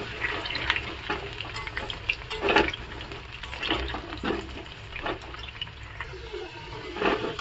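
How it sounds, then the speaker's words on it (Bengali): Potatoes frying in hot oil ahead of a meat curry, with a steady crackling sizzle and recurring louder stirring bursts, close and continuous. "আলুটা ভেজে নিই, তারপরে মাংসটাকে কষাবো"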